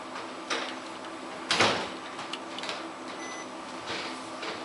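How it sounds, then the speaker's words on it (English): An indoor door being closed in a room, a single brief knock-like thud standing out over a steady hiss, with a few faint clicks before and after and no talk. "Close the door."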